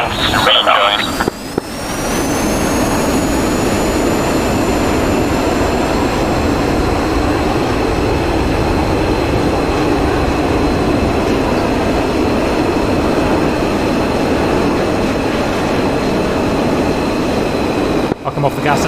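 Steady roaring drone of a fighter jet engine at high thrust in the flight simulator DCS World, a loud continuous rumble with faint whining tones and a voice talking over it.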